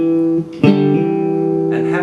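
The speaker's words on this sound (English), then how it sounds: "and then to pluck the 5th string and the 4th string together" An electric guitar plucks the 5th and 4th strings together in a rhythm move: a brief ringing note, a short gap, then a sharp double-string pluck that sustains cleanly up close.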